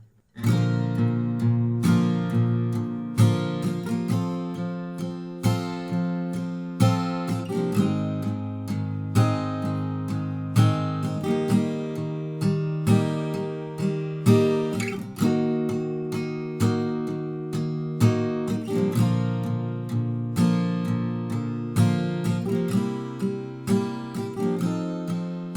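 An acoustic guitar strums a verse chord progression in a steady, even rhythm for about 25 seconds, loud and close with regular chord changes and no voices.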